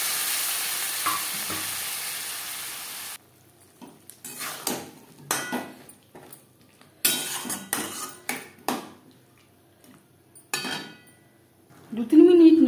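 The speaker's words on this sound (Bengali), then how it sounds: "গুঁড়ো মশলা আলুর সাথে বেশ ভালো করে মিক্স করে দেবো।" Potatoes fry with ground spices in a pan, a soft sizzle at first, then stops for repeated scraping and clattering stirs against the metal pan in irregular bursts.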